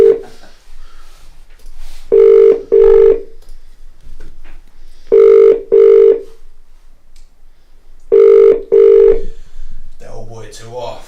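A phone ringing during a call, heard as repeated paired electronic ring tones about every three seconds, loud and close, with speech at the end.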